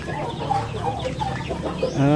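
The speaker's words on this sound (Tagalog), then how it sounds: "Ito yung running to 3 weeks old na sisiw natin." Young three-week-old chicks cluck and peep softly in short overlapping calls, close by, with a louder chirp near the end.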